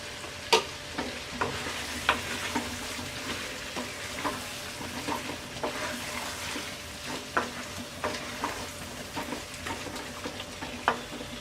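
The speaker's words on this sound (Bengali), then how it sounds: "এবার আমগুলোকে আমরা অল্প আঁচে 10 মিনিট ভুনে নেব।" Green mango pieces for pickle sizzle gently in a pan over low heat, with a spoon scraping and stirring at a slow, irregular rhythm up close.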